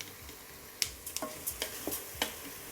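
Washed rice stirred into a vegan Taiwanese braised-pork-style mushroom mixture: a quiet scatter of light scrapes and soft clicks at an irregular pace, close by, with no talking.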